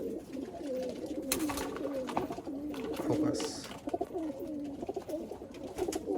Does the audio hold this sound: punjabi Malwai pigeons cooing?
yes